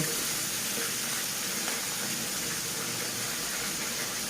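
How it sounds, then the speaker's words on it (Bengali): Small puti fish frying in hot oil in a pan, giving a steady, loud, hissing sizzle that runs unbroken throughout with no voices. "পুঁটি মাছ ভেজে নিচ্ছি।"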